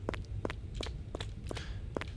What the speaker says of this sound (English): Thought for a second I heard another footstep then, but no, it's just me